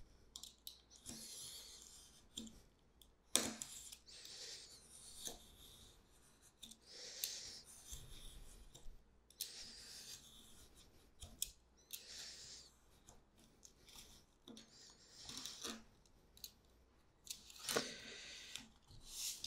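A knife draws along a metal straight edge trimming excess paper for a handmade field journal, giving quiet, close scraping strokes in short repeated passes with soft handling noises between them.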